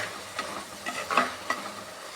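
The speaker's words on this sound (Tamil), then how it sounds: "காய் நல்லா வதங்கிடுச்சு, பார்த்துக்கோங்க." Soft sizzle and occasional spoon scrapes as vegetables sauté in a pan for Trichy-style sambar, faint and close with a few brief clicks.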